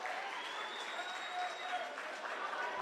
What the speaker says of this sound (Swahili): Let's clap for him as he presents the memorandum.